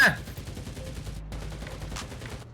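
Gunfire in the shooter game CRSED F.O.A.D., a sharp opening shot followed by a quick run of rapid shots at moderate loudness, with a voice briefly heard.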